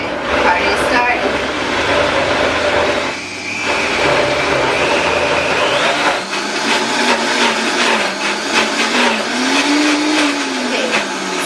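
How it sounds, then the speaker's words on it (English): A blender whirs loudly and continuously through a thick vegan protein smoothie. The motor bogs down briefly as the blend gets stuck, then its pitch climbs and wavers as it picks back up. "the blender is getting stuck on us"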